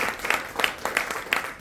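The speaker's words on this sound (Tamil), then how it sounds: "மிகப்பெரிய கைத்தட்டு." Clapping at a speech contest evaluation session, a small audience applauding in a few distinct rhythmic pulses, moderately close, with no talking.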